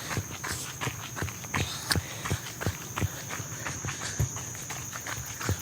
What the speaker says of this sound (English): I hear other people's footsteps.